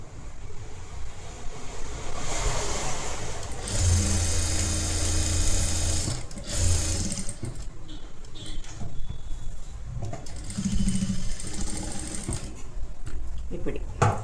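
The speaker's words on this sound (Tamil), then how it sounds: "ஒரு ஃபோல்ட் பண்ணி ஒரு ஸ்டிச் போட்டுக்கோங்க எட்ஜில்" A sewing machine whirs in bursts as it stitches a folded edge of a netted blouse, with someone talking over and between the runs.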